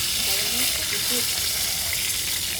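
Tilapia frying in hot oil, a steady dense sizzle and crackle close up with faint talk underneath.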